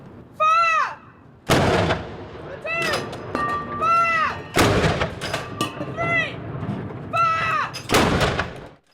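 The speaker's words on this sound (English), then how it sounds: "Just before the 11th hour, gunfire rang out from Edinburgh Castle." Several heavy booming cannon shots, spaced a few seconds apart and echoing, with gulls calling in between and some voices in the background.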